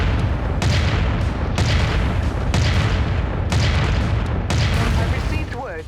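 Weapon fire and explosions in MechWarrior 5 Mercenaries: a dense, continuous barrage of booming blasts and bursts pounding in rapid waves, loud throughout and easing off only at the very end.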